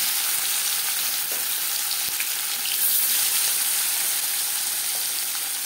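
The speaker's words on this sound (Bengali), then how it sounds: "আমি 4 চামচ রিফাইন্ড অয়েল গরম করে নিয়েছি। এবার দিয়ে দেব ম্যারিনেট করে রাখা মাছ" Marinated bata fish hits hot refined oil with a loud, dense, continuous sizzling hiss that stays close and even throughout, with no one talking.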